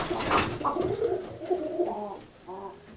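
Young pigeons in a coop, including trumpeter-type birds, give soft, repeated rolling coos close by, several overlapping calls in a continuous murmuring rhythm.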